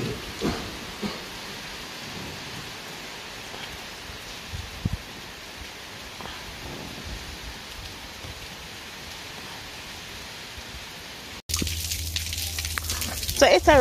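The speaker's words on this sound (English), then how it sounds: "It's a rainy day today." Steady rain falling at a home in Jamaica, a constant dense patter on surfaces throughout, louder and closer in the last couple of seconds, with a voice briefly heard.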